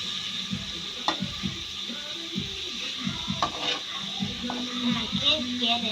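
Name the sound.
egg and tocino frying in a pan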